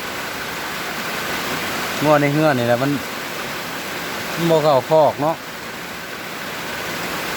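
Heavy storm rain falls in Laos with water streaming off, a steady broadband rush that fills the whole clip. Someone speaks two short phrases over it.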